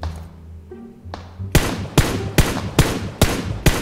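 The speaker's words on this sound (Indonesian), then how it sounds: "Oh iya, benar-benar gue denger tembakan." Gunshots in the mobile battle royale game PUBG Mobile: six sharp, loud reports spaced about half a second apart, following a quieter muffled thump and some faint background noise.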